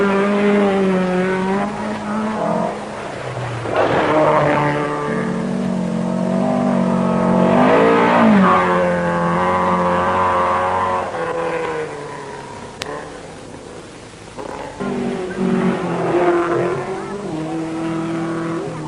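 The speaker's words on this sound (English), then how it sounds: "This is rallying in Finland, a sport of extremes, faster, harder, demanding greater courage and ability than anywhere else." Rally cars at full throttle on gravel stages of the 1973 1000 Lakes Rally in Finland, engines revving loudly and rising in pitch through repeated accelerations, with tyres scrabbling and a narrator's voice faintly underneath.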